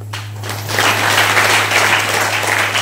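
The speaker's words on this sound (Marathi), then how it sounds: "आणि टाळी काय मारता?" A church congregation at a Christmas service claps together, a dense burst of applause that starts sharply and carries on steadily, with a low hum underneath.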